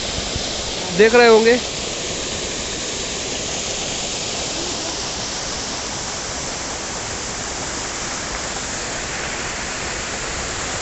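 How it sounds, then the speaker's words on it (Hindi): A waterfall fed by an overflowing pond in the hills of Ajaigarh, Madhya Pradesh, makes a steady, broad roar that carries on evenly, with someone speaking briefly over it near the start. "तालाब से फिर ओवरफ्लो होके ये पानी गिरता है झरने के रूप में"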